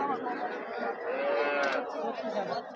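Cattle low and moo amid the bustle of a crowded cattle market selling small Sahiwal cows, with a dense wash of crowd chatter running steadily throughout and one drawn-out bovine call rising over the noise.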